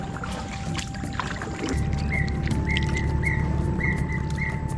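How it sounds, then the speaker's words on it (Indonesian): Birds sing in a Kalimantan forest, with repeated chirps and a steady high whistle over a low rumbling background, moderately close. "Mantap kali suara burungnya."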